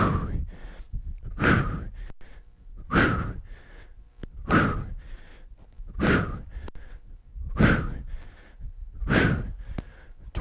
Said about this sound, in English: Every time I give effort, I give a little exhale.